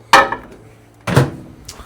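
Two close, solid thumps about a second apart as a microwave door is pushed shut, with a faint hum in the background.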